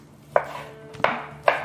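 A knife chops through cherry tomatoes on a board with three sharp, evenly spaced cuts, close and distinct against a quiet kitchen background.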